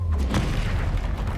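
A Confringo explosive spell cast in the Hogwarts Legacy video game, heard as a loud, dense booming blast with low rumbling thuds that fill the short moment, with no talk over it.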